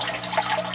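Water pours into a small DIY aquaponics container, a short, close, continuous splashing trickle with bubbling fluctuations, no voices.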